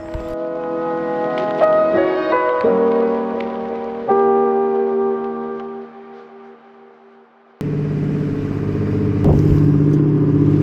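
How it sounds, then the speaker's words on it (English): A loud boat engine drones with shifting tones at first, then breaks into a heavier, rougher rumble that continues to the end. "I wonder what that boat does. It's loud, very loud."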